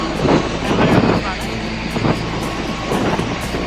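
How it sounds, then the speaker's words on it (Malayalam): A nearby helicopter roars loudly, its rotor beating in a regular rhythmic thump over a heavy engine drone and wind buffeting. "2 ഹെലികോപ്റ്റർ ലാൻഡ് ആയിട്ടുണ്ട്."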